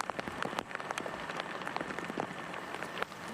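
Rain falls steadily on the fairways at Merion during the U.S. Amateur Championship, a dense, even patter of drops hitting the ground, moderately loud and without voices.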